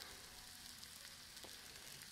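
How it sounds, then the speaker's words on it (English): Food sizzles in a pan over an outdoor campfire, a steady, faint frying hiss that runs unbroken throughout with no talking. "Well, the sizzle's starting to go down a little bit."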